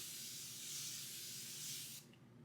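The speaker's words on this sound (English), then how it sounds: "I'm gonna go in with this Morphe Continuous Prep and Mist setting spray right here" A steady airy hiss of fine mist from a Morphe Continuous Prep and Mist setting spray onto a face for about two seconds, then cutting off abruptly, close and fairly loud.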